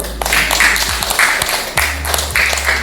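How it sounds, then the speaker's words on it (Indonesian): Classroom applause for a student group, a short burst of many hands clapping, moderately loud and close, with a low hum underneath. "Oke, berikan aplaus kepada kelompok 1."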